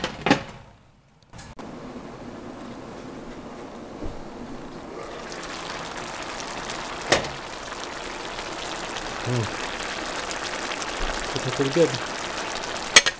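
Liquid boils down in a hot pan, giving a steady soft sizzle and bubbling hiss with a few clinks. Someone speaks briefly over the sizzle.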